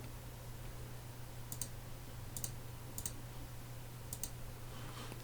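Mouse clicks on a computer while a cash-up form is filled in, a few sharp, faint clicks scattered alone over a low steady hum.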